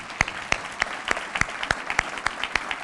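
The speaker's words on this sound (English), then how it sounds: "let's one last round of applause for all our award winners" An audience applauds the award winners at the Green Spot Awards, with brisk, regular claps over a soft wash of clapping, fairly quiet and with no speech over it.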